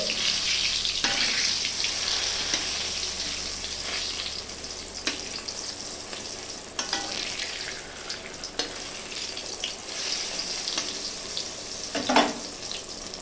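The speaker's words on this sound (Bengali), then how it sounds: "এক দিকটা ভাজা হয়ে গেছে, আমি অপর দিকটা ভেজে নিচ্ছি" Eggplant slices rubbed with salt and turmeric sizzle in hot oil as they fry and are turned over, a steady crackling hiss with occasional louder sputters and clinks, no talking.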